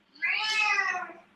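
Pet cat Tiger Lily gives a single long, clear meow up close, rising and holding steady for about a second before trailing off, alone with no other sounds.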